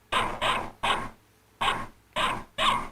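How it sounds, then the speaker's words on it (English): Digitally modeled dog barking: six sharp, close barks in an uneven rhythm, some in quick pairs, with short silent gaps between them and no talking. "This is a dog."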